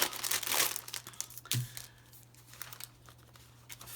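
Wrapping paper crinkles and rustles as it is handled up close, with bursts of crumpling, a sharper crunch partway through, and quieter rustling afterward.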